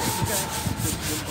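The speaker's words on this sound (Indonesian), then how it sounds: "kita amplas sampai halus menggunakan amplas serat nomor 100" Sandpaper of grit 100 is rubbed by hand over the body of a Toyota Kijang Innova during a full respray, a close, continuous scratchy rasp in quick back-and-forth strokes.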